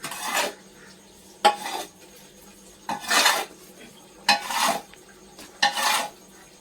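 Corn and wheat feed for chickens and ducks is stirred and mixed in bursts, giving five separate scraping, rattling sweeps with short pauses between them. The sound is close and there is no talking.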